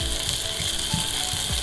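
Boiled elephant apple pieces hit hot mustard oil, setting off a steady, close sizzle with a few soft clinks and scrapes in the pan, no talking.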